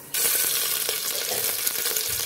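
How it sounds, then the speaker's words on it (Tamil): Mustard seeds and urad dal frying in tempering oil for a Tamil tapioca masiyal, a sudden burst of close hissing sizzle with scattered pops and light crackles that holds steady. "இதில் இப்போ கொஞ்சம் கடுகு போட்டு தாளிச்சுக்கிறோம்."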